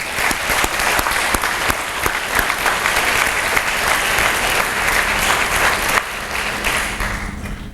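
An audience at a hall of fame induction ceremony applauds steadily, many hands clapping in a dense, continuous wash that stays loud throughout before easing slightly at the end.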